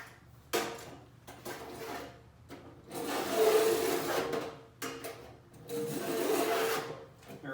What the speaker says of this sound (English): So first I'm going to mark it by scratching it in.